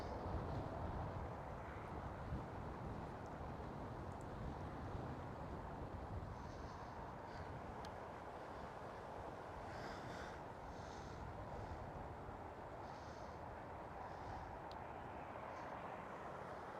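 Airliner landing at Amsterdam Schiphol airport, heard as a steady, broad roar of engine and air noise throughout, fairly distant and constant in level with no voices.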